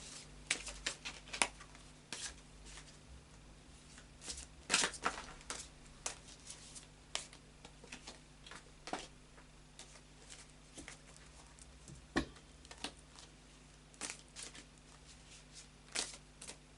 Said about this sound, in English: I'll just do another shuffle and we'll clarify the cards on the table.